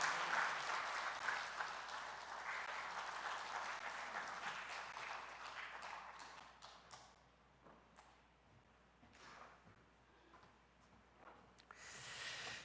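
A church congregation bursts into full, dense applause that holds for several seconds and then thins into scattered claps and quieter room noise, with a short final swell at the close.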